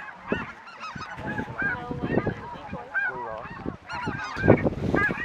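A flock of snow geese honks continuously in spring, many overlapping calls close by and farther off, busy and chattering throughout.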